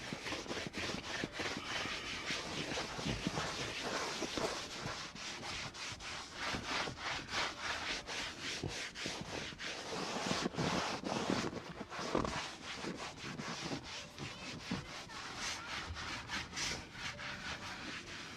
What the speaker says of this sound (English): got a microfiber towel here, put on a little bit, and then just work it into the leather